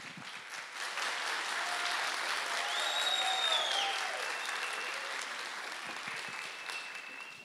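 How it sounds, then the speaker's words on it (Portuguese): An audience applauds at a stage hypnosis show, with sustained, even clapping from a crowd that holds steady for several seconds before tapering slightly. A few faint tonal sounds sit above the clapping. "Uma salva de palmas para os nossos astros."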